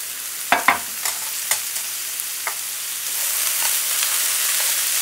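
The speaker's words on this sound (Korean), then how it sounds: "당근을 볶아 보겠습니다." Carrots stir-frying with garlic, salt and sesame oil in a pan, a steady close sizzle with several sharp scraping stirs early on, then a denser hiss of frying, no talking.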